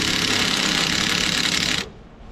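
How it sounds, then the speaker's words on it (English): A Harbor Freight impact wrench runs in one steady, loud, buzzing burst as it tightens a nut on a Massey Ferguson MF40 tractor backhoe tie-rod, then cuts off abruptly, leaving quieter background noise. "trusty old Harbor Freight impact."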